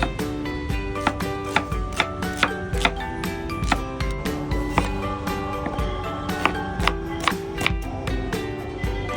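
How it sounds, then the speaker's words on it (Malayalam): A knife chops through an onion on a board, cutting thick slices in a steady run of sharp, close taps roughly every half second, with no one talking. "അപ്പോൾ നമുക്ക് കുറച്ച് കനത്തിൽ ഇത് കട്ട് ചെയ്തിട്ട് എടുക്കാം കേട്ടോ"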